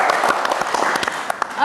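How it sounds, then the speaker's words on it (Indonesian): Brief, loud applause from a podcast audience, quick close claps over a short burst with some voices mixed in. "Tepuk tangan dulu."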